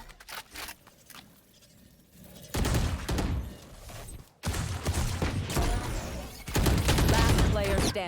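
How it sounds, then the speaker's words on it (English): Video game match in a 2v2 skirmish, with a swarm grenade going off amid bursts of rapid gunfire, loud, dense volleys in several waves separated by brief lulls. "Swarm grenade out."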